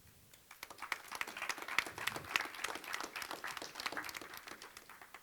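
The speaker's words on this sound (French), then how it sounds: "On peut les applaudir encore" An audience applauds after a one-minute project pitch at a conference café session, a dense, fairly soft burst of clapping that swells and then tapers off.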